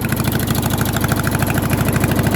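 White LT 1650 riding lawn mower engine running after a carburetor cleaning, a loud, steady, close rumbling putter with fast regular pulsing and no other sounds.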